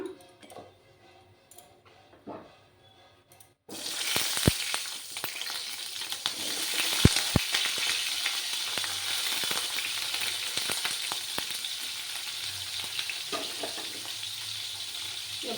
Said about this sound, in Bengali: এবার আমি প্রথমে বেগুনগুলোকে ফ্রাই করে নেব